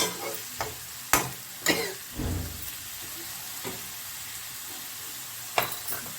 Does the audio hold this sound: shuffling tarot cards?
no